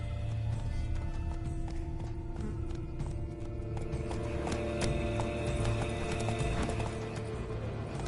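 Rapid hoofbeats clatter continuously over a dense, busy background, with a horse whinnying among them, like a stampede in The Witcher 3: Blood and Wine.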